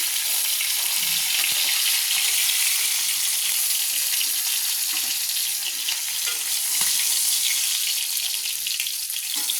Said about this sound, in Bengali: চিংড়া মাছগুলো আমার লাল লাল করে ভাজা হয়ে গেছে।